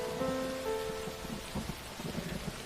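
Steady rain pours with rumbling thunder beneath it, loud and close, no voices present.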